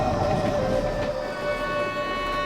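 A moving passenger train rolls along with a steady, loud rumble and a sustained tonal whine, the rattle constant throughout with no voices over it.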